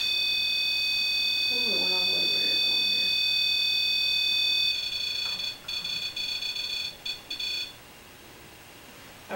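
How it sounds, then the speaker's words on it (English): A house door alarm sounds as a steady, piercing electronic tone, then keeps cutting out and coming back in short on-off bursts before going quiet. A voice speaks briefly early on. "Are you the one that makes the door alarms go on and off?"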